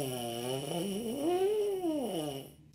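Trombone-style lip buzzing without the instrument glides up in pitch and then back down in one continuous, fairly quiet, close buzz that ends abruptly.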